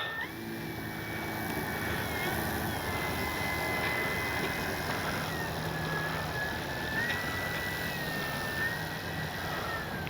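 The small 10cc engine of a Hangar 9 J-3 Cub RC plane idles outdoors in the evening, a continuous buzzing drone with a wavering higher pitch over a low rumble.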